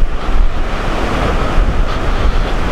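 Strong, steady wind buffets the microphone at a park picnic area near a gazebo, a continuous loud roar with no talking.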